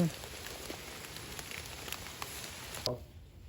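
Rain falls outdoors during mushroom foraging, a dense close patter of drops running steadily before cutting off abruptly near the end.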